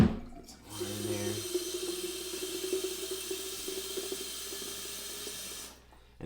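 Tap water runs steadily for about five seconds, filling a vessel for making coffee, a close, continuous rushing hiss that starts and stops abruptly.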